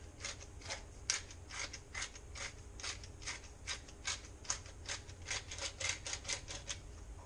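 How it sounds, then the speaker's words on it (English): Black pepper is ground in a pepper mill, a quick run of rhythmic gritty crunching twists, close and fairly quiet, with no speech. "Also grind in some black pepper liberally."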